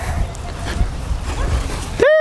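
A dog whimpers and yips close by over low background rumble, ending with a sharp rising bark-like cry.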